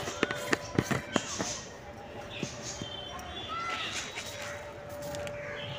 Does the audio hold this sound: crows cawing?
yes